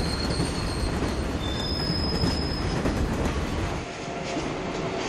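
A heavy-haul freight train runs along a railway line, a loud continuous rumble of rolling wagons with squealing wheels and brief high metallic screeches, easing slightly near the end.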